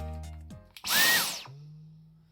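A short burst of a high-pitched motor whir from a cordless Dyson vacuum cleaner spins up sharply and then winds down, close and fairly loud, lasting about a second.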